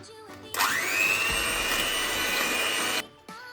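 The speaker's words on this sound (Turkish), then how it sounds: "Şimdi ilk olarak 2 yumurta ve toz şekeri köpük köpük olana kadar çırpacağız" An electric mixer whisks two eggs with sugar until foamy, a whining motor hum starting abruptly, rising in pitch, holding steady for a few seconds, then cutting off.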